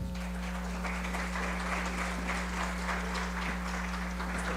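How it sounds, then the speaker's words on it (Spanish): Steady applause from an audience fills the whole stretch, even and sustained over a constant low background hum. "Recibimos a los integrantes de esta mesa con un fuerte aplauso."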